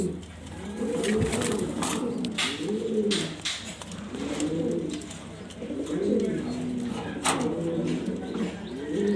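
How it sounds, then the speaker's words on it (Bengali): Satin pigeons cooing repeatedly in rolling, throaty phrases, several calls in a steady rhythm against a noisy background. "এখানে আছে শাটিন কবুতর"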